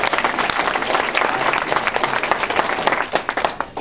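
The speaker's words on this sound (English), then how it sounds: "So let's give her dad a round of applause." An audience at a graduation ceremony breaks into a full round of applause, dense sustained clapping from a crowd that continues steadily, with a few louder individual claps near the end.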